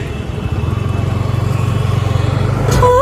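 A motorbike rumbles steadily on a road, its low engine drone close and continuous, rising slightly toward the end as a brief higher tone cuts in.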